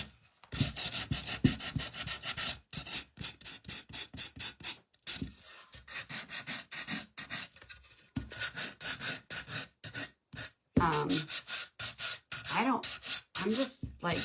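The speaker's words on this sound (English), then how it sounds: "I got my gator sander here, and we're gonna sand this" A Gator electric sander sands a wooden craft kit, running in loud, close bursts of rough rubbing with brief pauses between passes over the wood.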